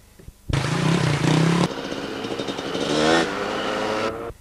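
Enduro motorcycle engine on a forest track at the 1994 Powys Enduro, buzzing and revving loudly up close in short bursts, then easing to a lower, uneven burble before cutting out.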